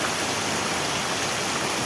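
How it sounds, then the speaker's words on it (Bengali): Rain falls as a loud, dense, unbroken wash of noise close by, steady from start to finish with no voices. "আর এই বৃষ্টি শুরু হয়ে গেছে।"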